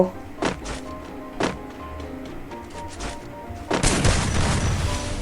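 Grenade explosions and gunfire in the Free Fire shooting game: a few separate thuds and shots, then a heavy booming blast that rumbles on to the end.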